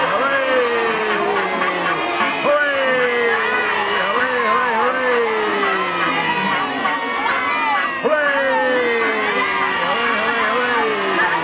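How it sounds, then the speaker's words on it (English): A large crowd of children cheers and shouts all at once, a sustained loud roar of hoorays and yells in a 1952 Howdy Doody television studio audience. "And all cheer at the same time."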